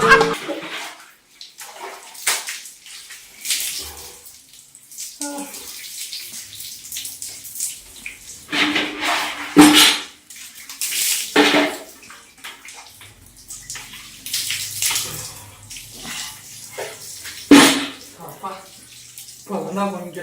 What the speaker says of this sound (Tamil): இல்லப்பா தண்ணி ஊத்துறப்பா